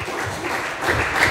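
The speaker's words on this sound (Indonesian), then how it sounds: "Sekali lagi kasih tepuk tangan untuk Tuhan Yesus." Church congregation clapping after a sermon, a brief burst of moderate applause with a slight swell toward the end.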